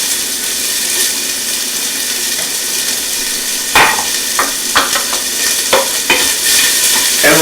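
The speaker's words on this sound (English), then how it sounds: "And we're going to saute this until it's translucent." Finely chopped onion sautés in heated olive oil in a stock pot, a loud steady sizzle that is later broken by a series of sharp scraping stirs and clatters from a spoon against the pot; no voices.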